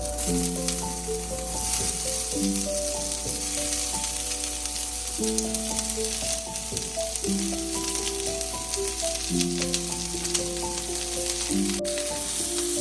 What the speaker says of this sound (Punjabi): ਫੇਰ ਕਰੇਲੇ ਭੁੰਨਾਂਗੇ ਹੁਣ ਕਰੇਲੇ ਫੇਰ ਪਾ ਦਵਾਂਗੇ ਜੀ ਵਿੱਚ